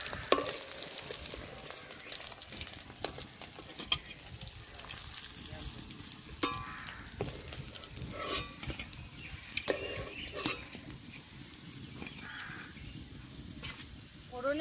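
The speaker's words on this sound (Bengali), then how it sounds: "ঠিক এই রকম করেই ভেজে নিয়েছি মাছগুলো লাল লাল করে" Snakehead fish fry in hot oil with a busy crackling sizzle and intermittent clattering, while crows caw repeatedly in the background.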